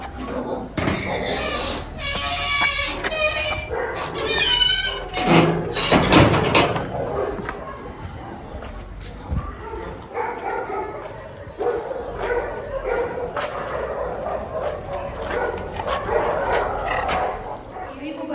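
A rescued dog that was once used for fighting barks in short, repeated yaps early on, close and fairly loud, then gives way to people talking over shuffling household noise.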